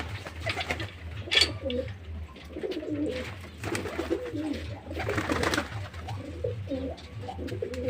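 Pigeons with pox coo repeatedly in soft, low rolling calls, several overlapping, close by with a faint background hum.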